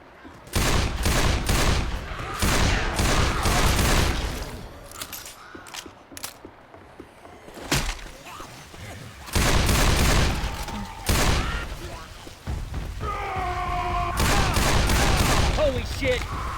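Assault rifle gunfire in the Left 4 Dead 2 zombie shooter comes in loud, rapid bursts separated by short pauses, mixed with mechanical game sounds and occasional other effects.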